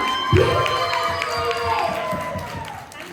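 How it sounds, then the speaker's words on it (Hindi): A wedding anniversary crowd at a silver jubilee celebration breaks into applause and cheering, a burst of clapping and shouts that rises quickly and then carries on at a moderate level, with voices mixed in. "एक बार जोरदार तालियां।"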